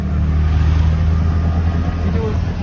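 Auto rickshaw engine heard from inside while riding, a loud, steady low drone with road rumble, continuous throughout.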